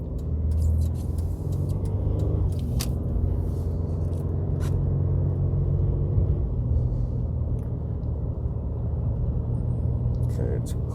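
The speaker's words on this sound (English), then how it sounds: "We're getting lots of road noise on 1." Road noise rumbles inside an accelerating car, picked up by a wireless chassis listening device, giving a steady, dense low drone with faint scraping and ticking on top throughout.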